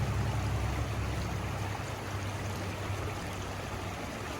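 The Gibbon River in Yellowstone flows steadily with a continuous rushing, gurgling wash, close and even throughout with no voices.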